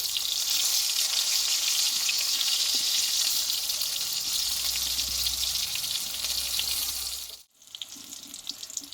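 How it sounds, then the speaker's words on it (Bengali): Pointed gourd (potol) frying in a pan, a steady loud sizzle running continuously before cutting off abruptly near the end, with a few faint clinks afterward. "দুইভাবে পটলটাকে ভেজে নিতে হবে"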